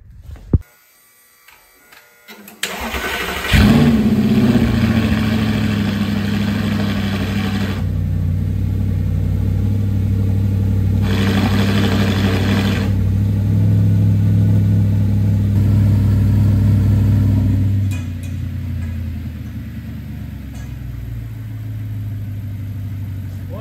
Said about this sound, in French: je vais mettre 2-3 coups de gaz et après on va la sortir pour la faire chauffer dehors